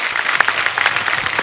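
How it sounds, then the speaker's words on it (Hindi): Loud, steady studio audience applause on The Kapil Sharma Show honoring Harish Bhimani, the voice of Time narrating Mahabharat, a dense wash of clapping with a few sharper claps standing out. "एक बार उनके लिए जोरदार तालियां हो जाए।"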